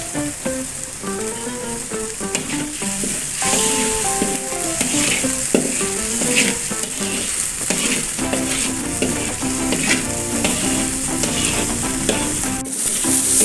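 Balado chili spice paste for stir-fried water spinach sizzles loudly in a pan, with continuous frying crackle and repeated scraping stirs, close up and without voices.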